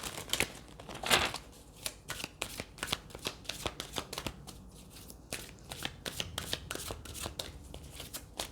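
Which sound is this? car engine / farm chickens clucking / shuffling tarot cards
shuffling tarot cards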